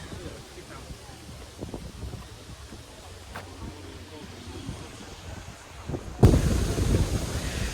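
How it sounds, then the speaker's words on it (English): Steady wind rumble buffets the microphone throughout, growing louder and rougher near the end, with faint talk underneath. "Getting a bit windy now"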